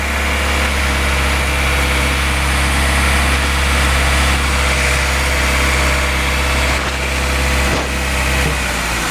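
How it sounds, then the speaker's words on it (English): A car engine fitted with B20-sourced injectors idles high at around 1500 RPM with its idle valve unplugged, a loud, steady, close drone throughout. "So we unplugged it. Idle RPMs like 1500."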